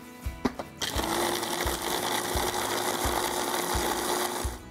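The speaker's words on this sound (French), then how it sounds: "Je continue avec les amandes et je vais déjà mixer le tout une première fois." A blender mixes oat flour with almonds. A few clicks come first, then the motor starts with a loud, steady whir and a regular low thumping underneath that continues to the end.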